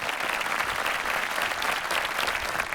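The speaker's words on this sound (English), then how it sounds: "Can we have a round of applause for all of our panelists?" Loud, dense audience applause for a panel of speakers at a talk, continuous clapping from a crowd filling the whole stretch.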